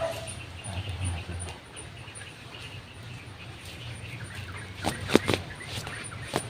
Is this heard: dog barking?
yes